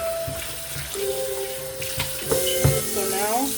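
Salmon rinsed under a running kitchen tap, a moderate splashing stream of water with clinks and handling noises, fairly close and fairly quiet.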